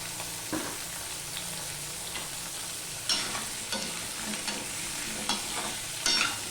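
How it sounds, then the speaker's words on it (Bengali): Papaya and potato pieces fry in oil in a pan with a steady broadband sizzle, broken by several short scraping stirs of a spatula; close and moderately loud, with no talking. "পেঁপে আলুটা কিছুক্ষণ ভেজে নিয়েছি"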